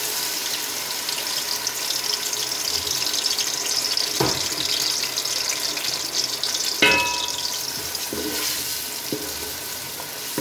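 Garlic ginger paste sizzling in hot ghee, a steady dense frying hiss lasting throughout, with a few sharp clinks from a spoon or pan.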